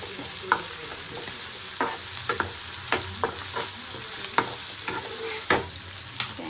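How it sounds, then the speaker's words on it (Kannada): Mustard seeds, cumin, chana dal and urad dal with onion frying in hot oil while being stirred, a steady sizzle with sharp pops and spatters scattered throughout, close and without talk. "ಸಾಸಿವೆ ಜೀರಿಗೆ ಮತ್ತು ಕಡಲೆಬೇಳೆ ಉದ್ದಿನಬೇಳೆ ಹಾಕಿದ್ದೀನಿ ಚೆನ್ನಾಗಿ ಫ್ರೈ ಆಗಬೇಕು ಈರುಳ್ಳಿ"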